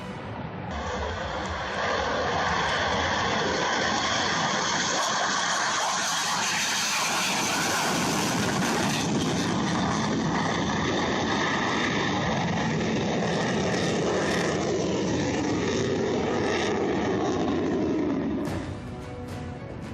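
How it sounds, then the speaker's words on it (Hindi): A Mirage 2000 fighter jet roars overhead, a loud, sustained broadband rumble with a rising and falling whine that swells in the middle and fades toward the end. "मौत बनकर गरजता है मिराज 2000।"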